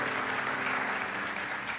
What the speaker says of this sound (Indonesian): Kasih tepuk tangan, jangan nanggung